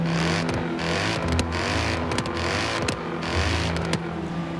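A V8 car engine in the video game Forza Horizon 3 revs loud and close throughout, rising and falling in repeated surges with gear shifts and no talk.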